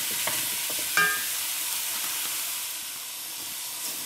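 Split peas for dhalpuri drying out as they cook in a pan, a soft continuous sizzle broken by a few spoon scrapes and one sharp clink of stirring.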